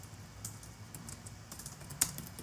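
Fingers tap a computer keyboard while code is written, producing scattered, fairly quiet keystrokes in an irregular rhythm, with one sharper click near the end, over a low background hum.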